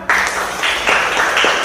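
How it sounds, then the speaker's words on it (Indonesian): Classroom students applauding after a group presentation, a loud dense burst of clapping that swells and dips in waves for a couple of seconds, with no talking. "Teori Waisa, tepuk tangan."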